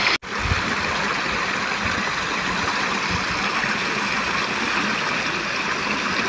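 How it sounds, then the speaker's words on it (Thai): A natural stream, Lam Taphoen, flowing with a steady, dense rush of water close by, continuous and unbroken after a brief dropout at the start. "น้ำจากธรรมชาติน้ำลำธารลำตะเพิน"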